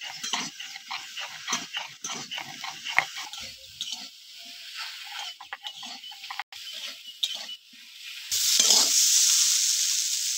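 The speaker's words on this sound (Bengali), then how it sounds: "লবণ, হলুদ, ভালো করে ঢেঁড়সটা কষিয়ে নেব।" Okra stir-fried in a pan with salt and turmeric for a bhindi dish with prawn legs, a steady sizzle broken by scraping spatula strokes, rising to a louder hiss near the end.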